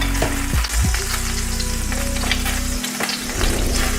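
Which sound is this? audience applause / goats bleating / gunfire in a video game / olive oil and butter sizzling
olive oil and butter sizzling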